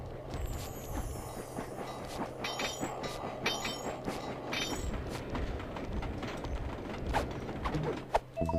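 A train in the video game Sly 2: Band of Thieves rumbles and clatters past with creaking and metallic squeals over a continuous low hum, moderately loud and steady throughout.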